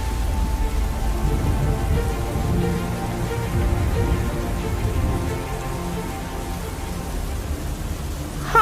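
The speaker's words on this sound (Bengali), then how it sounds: "অনেকদিন পর আমরা সবাই একটু বৃষ্টি পেয়েছি" Steady rain pouring in a cartoon scene, a dense even hiss that holds for several seconds and eases slightly near the end, with no talking.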